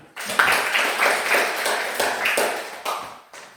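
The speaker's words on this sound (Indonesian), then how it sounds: "terima kasih, tepuk tangan" Applause from students in a classroom, a brief burst of clapping of moderate loudness that fades out after a few seconds.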